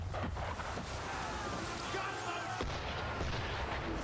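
Cannon fire from a sailing ship in Assassin's Creed III, heavy booming blasts over a steady roar of wind and sea, with a voice talking over it.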